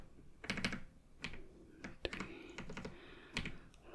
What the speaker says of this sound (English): I've just got my computer over here. I'm just going to type some of this in.